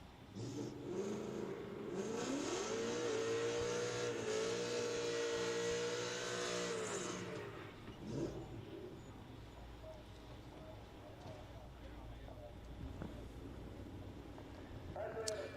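A drag racing car at the NMRA Spring Break Shootout roars loud and close, its engine note holding steady and rising through about seven seconds before dropping away to a lower, distant rumble and ambient track noise.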